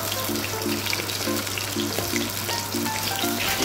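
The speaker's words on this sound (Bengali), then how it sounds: "তো এখানে দেখো মাছটা মোটামুটি ভাজা হয়ে গেছে।" A fish fries in a pan with a loud, steady sizzle and crackle close by, over a constant low hum and a few faint repeated tones, with no talking.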